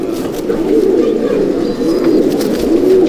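Pigeons in a loft of Malwai breeders give continuous low, rolling coos, close and loud, with faint chirps above and no talk.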